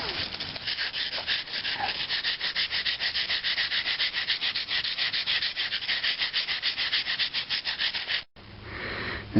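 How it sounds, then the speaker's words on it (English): Bone ground into a bevel against sandstone, a rapid rhythmic rasping scrape repeating steadily back and forth at close range before stopping abruptly near the end. "I'm continuing to grind a nice bevel onto it right there"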